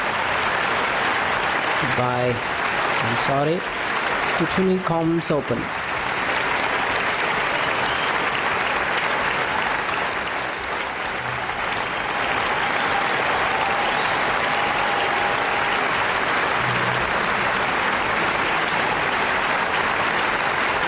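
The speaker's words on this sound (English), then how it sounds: "this right away deserves my round of applause" Steady applause from a crowd runs through the whole stretch, loud and unbroken, with a few short bursts of talk near the start.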